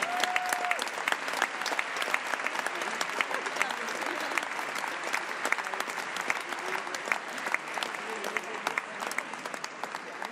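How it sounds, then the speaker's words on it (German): Sustained crowd applause fills an indoor arena after a Grand Prix freestyle dressage test at the Agravis Cup, dense and steady throughout with occasional sharper individual claps. "Der Applaus wollen wir nie unterbrechen."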